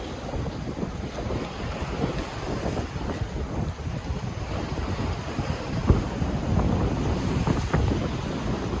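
Strong sea waves wash and splash against the shore in Taiwan, a continuous roaring surge with heavier bursts, mixed with gusty wind buffeting the microphone throughout.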